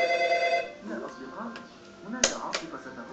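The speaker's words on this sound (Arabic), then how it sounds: "تليفون، حاضر اروح ارد على التليفون" A telephone rings at home with a steady electronic tone at first, then fades under nearby voices talking and light clattering of a wooden puzzle.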